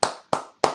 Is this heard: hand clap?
yes